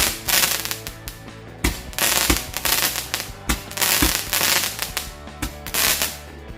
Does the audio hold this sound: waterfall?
no